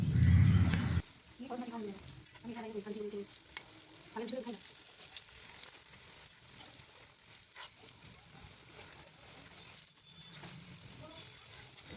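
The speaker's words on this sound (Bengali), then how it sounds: "তালের ফুলুরিগুলোকে অল্প আঁচে ভাজতে হবে যাতে ফুলুরিগুলো ভালোভাবে ফুলে আর সেদ্ধও হয় ভেতরে" Palm fritters frying over low heat in mustard oil make a soft, continuous sizzle, with a brief louder burst at the start and a person talking over it.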